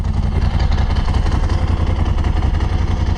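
A 2006 Ducati Multistrada 1000 S DS with an L-twin engine, dry clutch and full Termignoni exhaust idles close by, giving a loud, steady low throb with an uneven pulsing beat and no voices.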